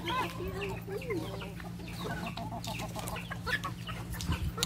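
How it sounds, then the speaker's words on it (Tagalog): Mixed flock of chickens, including white leghorns, heritage chickens and game fowl, clucking and calling steadily on a farm, several birds at once, moderately near, with a constant low hum beneath. "merong white leghorn, merong heritage chicken, merong yung ating game fowl"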